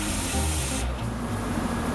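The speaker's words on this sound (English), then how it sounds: "The internal passageways of the mold are carefully sprayed with an inert ceramic slurry" Inert ceramic slurry hisses steadily from a sprayer onto the internal passageways of a hardened airset sand casting mold for valves, a close continuous spray with no voices.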